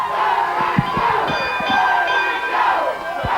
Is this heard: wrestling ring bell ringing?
yes